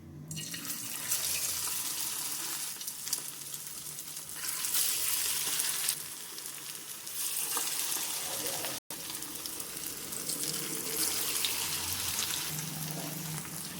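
Methi and poha vadas frying in hot oil, a loud, continuous sizzle and crackle that swells and eases over the whole stretch, with one brief dropout partway through.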